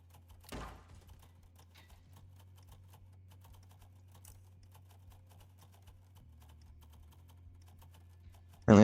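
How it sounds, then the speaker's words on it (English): Typing on a computer keyboard during a live stream, a faint, steady patter of soft key clicks running throughout, ending with a sudden louder burst. "I'm not even reading what I'm typing."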